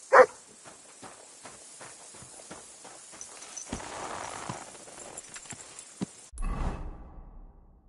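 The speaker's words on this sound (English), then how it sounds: "You silly mutt." Dog barking in the medieval game Kingdom Come: Deliverance 2: one sharp close bark at the start, followed by steady clip-clopping hooves and footsteps, with a rushing swish near the end.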